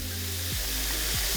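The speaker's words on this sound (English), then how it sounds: "we're ready to get sizzling with our bacon" Bacon sizzles in oil in a frying pan, a dense steady crackling hiss with low hum beneath, close and constant.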